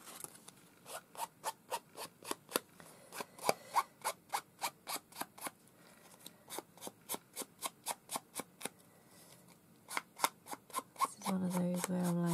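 Scissors snipping paper while trimming an artist trading card, a long run of sharp, evenly spaced close cuts with a few short pauses, and a voice briefly joining at the end.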